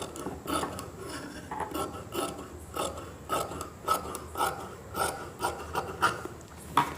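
Scissors snip through chudidhar fabric near a collar neckline, making a series of soft, crisp cuts in an irregular rhythm, close and fairly quiet, with no talking.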